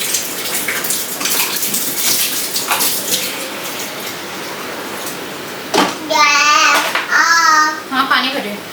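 Water runs into a container in a home kitchen with a splashing, pattering flow that fades in and out, and a voice rises over it toward the end.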